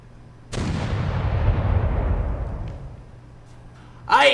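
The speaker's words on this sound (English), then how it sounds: "those cannons be sounding mighty fine" Ship cannons firing aboard a pirate vessel: one loud booming blast with a long rumbling decay that fades over several seconds, followed by a sharp second report at the end.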